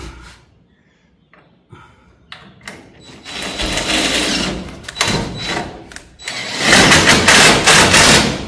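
Screws are driven into the wall of a mobile chicken coop under construction, with a power driver whirring in bursts, building to loud sustained runs near the end.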